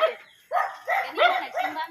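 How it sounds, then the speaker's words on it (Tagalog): Several dogs bark at a home in a few sharp, close barks and yips in quick succession, loud and with no talk over them. "Nabulabo ang mga aso."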